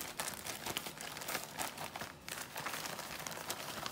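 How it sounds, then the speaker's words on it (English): Fish pieces being shaken inside a closed plastic bag of cornmeal breading, a steady rough crinkling and rustling of plastic with the coating rattling inside, close and continuous for several seconds. "Close the bag up, shake it on up."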